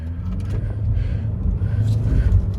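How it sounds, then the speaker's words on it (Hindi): Chevrolet Cruze diesel engine roaring steadily from inside the car while driving, a loud low rumble that swells slightly as it pulls. "डीजल इंजन जो है रोर करता है"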